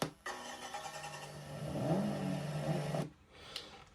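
A GT Power RC sound module plays its Turbo Rally car engine sound: about three seconds of rumbling engine with a rising rev, then a brief fade to near silence with a small blip, fairly close.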